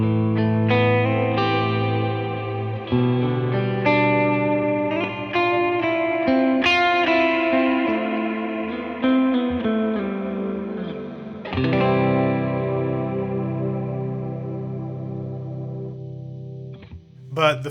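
Electric guitar through a Blackhole reverb pedal set to its bigger preset 2, loud ringing chords swelling into a huge, lush ambient wash with long decaying tails that fade out near the end.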